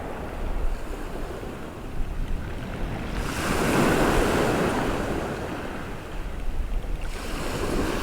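Sea waves break on an East Coast UK beach during a fishing trip, a steady rolling wash that swells into a louder surge of breaking surf midway, with wind rumbling on the microphone and no talking.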